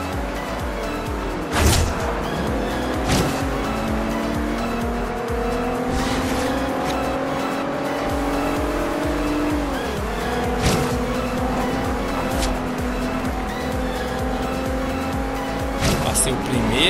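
A Toyota Supra racing in Forza Horizon 2, its engine droning loudly and steadily, rising and dropping through gear shifts with occasional tire squeals, while a voice talks over it.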